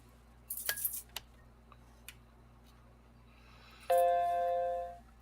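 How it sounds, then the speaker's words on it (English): A single bright electronic chime rings out close and clear, holding a steady tone for about a second before cutting off, after a few faint clicks and clinks on a quiet workbench. "I hear a chime."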